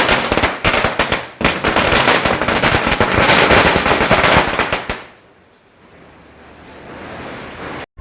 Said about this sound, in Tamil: ஒரு தூக்கி போட்டால் வெடிக்கலாம், அந்த பட்டாசு வெடிப்போம்